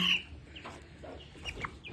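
Hen clucking close by, a few soft, short clucks scattered across two seconds, one slightly louder burst near the start, with handling rustle around it.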